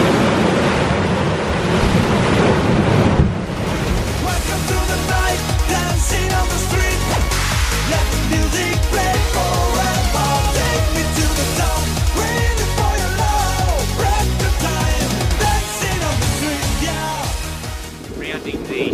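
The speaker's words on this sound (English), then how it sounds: "We get these gusts every now and again, and then the waves crash." Gusty wind and crashing sea waves at an anchorage off the southern tip of Anafi during a strong Meltemi, a loud, continuous roar of surf and buffeting wind noise on the microphone throughout.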